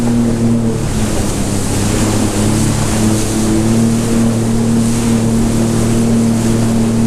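Sea-Doo Fish Pro personal watercraft running over rough ocean swells, its engine droning steadily and loudly up close with splashing water and wind throughout, no talking.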